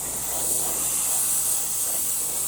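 An airbrush sprays Stynylrez metal primer on compressor air at slightly high pressure, giving a steady, unbroken hiss that runs the whole time without pause.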